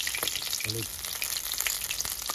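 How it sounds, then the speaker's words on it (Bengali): Food sizzles and crackles steadily in a hot pan, a constant bright hiss with small pops throughout and a brief low clunk. "একদম কড়া ভাজা যাকে বলে।"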